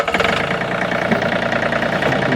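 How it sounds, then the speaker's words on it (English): A John Deere 3025E compact tractor engine runs at idle after starting, a close, loud, steady diesel chug with a fast rhythmic knock throughout. "as I hop on the tractor, put my seat belt on, go ahead and start it up."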